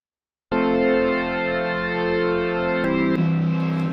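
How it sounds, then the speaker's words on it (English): A gated organ patch from the Serum synth, pushed through Guitar Rig distortion, enters after a short silence as a loud sustained buzzing chord, then shifts to a new chord with a brief stutter near the end. "one thing that I really heard in a ton of the album was this like gated organ sound."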